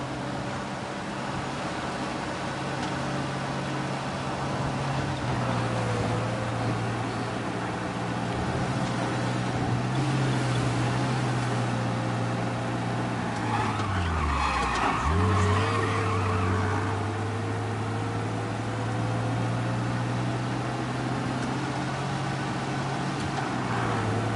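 Car engine droning steadily while driving in the video game Mafia: Definitive Edition, with a shift in pitch and a brief dip and surge partway through, loud and continuous with no talk.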